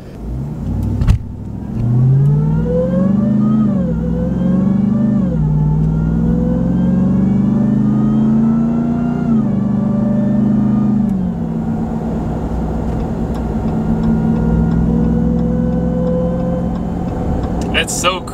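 A 2023 Ram TRX Havoc Edition truck engine revs and accelerates with a rising, high-pitched supercharger whine climbing through the gears, loud and close, while a person talks over it.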